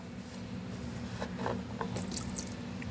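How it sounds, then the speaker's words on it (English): Water trickling and splashing steadily onto a surface as it drains from the drain plug of a 1952 Ferguson TEA tractor, with a low background hum and a few brief clinks near the end. "Oh, water came out first."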